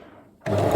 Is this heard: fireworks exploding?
no